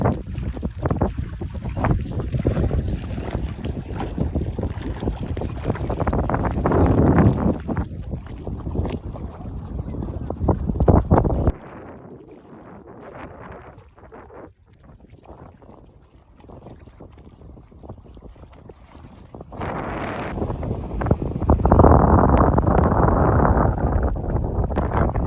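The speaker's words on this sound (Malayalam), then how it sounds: "വെള്ളം നല്ല ശക്തിയായിട്ട് തിരയടിക്കത്തില്ലേ, അതേ ഒരു സൗണ്ടിലാണ് ഇവിടെ വെള്ളം ഇങ്ങനെ അടിച്ചുകൊണ്ടിരിക്കുന്നത്" Rushing water surging and crashing like waves at Wadi Zikt dam in Fujairah, loud roaring bursts that drop to a quieter lull midway before swelling again, with heavy wind buffeting the microphone.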